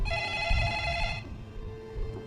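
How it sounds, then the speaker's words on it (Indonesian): A telephone ringing with a bright electronic tone for about a second, then stopping, against a low background rumble. "Tak lama kemudian sebuah telepon berdering."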